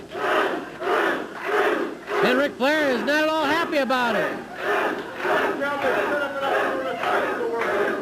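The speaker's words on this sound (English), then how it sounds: "the crowd is chanting" Wrestling crowd at an NWA St. Louis event chanting "Butch, Butch" in a loud rhythmic repeated call, a commentator speaking over it throughout.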